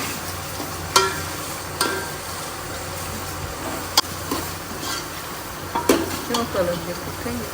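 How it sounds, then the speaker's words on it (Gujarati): Onions fry toward golden brown in a pan with curry leaves for a Gujarati dal pulav, a steady sizzle broken by a few sharp clinks and scrapes of a stirring spoon against the pot. "બસ તો ડુંગળીની થોડી ગોલ્ડન બ્રાઉન થાય એના પછી આપણે ટામેટું નાખીશું"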